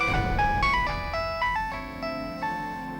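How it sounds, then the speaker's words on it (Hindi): A phone ringtone plays a stepped melodic tune of clear electronic tones, fairly loud and close, with no talk over it. "अरे उठा ले फोन।"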